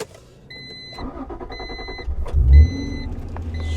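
A 1991 Acura NSX engine cranks and catches after a key turn, a short starter whir rising into a deep, close idle rumble, preceded by a few soft interior chimes.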